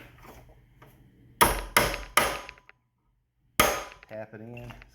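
A hammer taps a steel punch to drive a pin into a Graco airless sprayer pump during a repack: three quick sharp metallic strikes, a pause, then a fourth, close and clear, followed by a brief voice.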